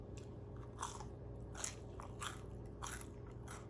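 Biting into a crunchy pizza crust at a Los Angeles pizzeria: soft, close crunches repeat at a steady chewing pace, about five crisp bites alone against a faint steady background hum.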